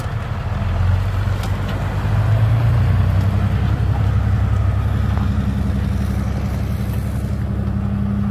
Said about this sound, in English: show you this truck in action here, just show you it backing up, going forward.